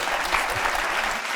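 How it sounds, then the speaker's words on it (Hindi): A studio audience at a Pakistani rap battle show applauds in a brief, dense, even burst of clapping with no talk over it. "आप लोग ताली बजाओ अपने लिए"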